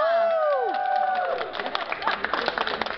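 Audience applause and cheering for a singer at a live Dutch summer evening concert, a crowd clapping and calling out briefly after a sung tone fades.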